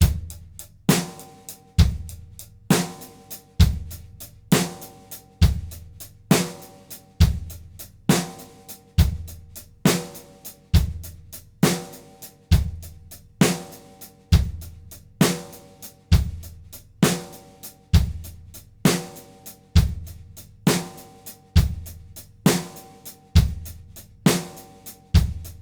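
Drum kit playing a steady beat with eighth-note triplets on the hi-hat over bass drum and snare, a crisp, even repeating groove at moderate tempo, played alone and up close with no voices.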